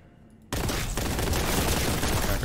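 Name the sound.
heavy bolter gunfire in video game Warhammer 40K: Boltgun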